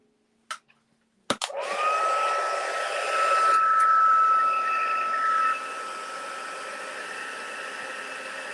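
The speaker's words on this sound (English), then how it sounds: "bring in our heat tool again" Heat tool for embossing switched on with a click and blowing a steady whooshing hiss with a faint whine, close and even, then dropping slightly in level as it keeps running.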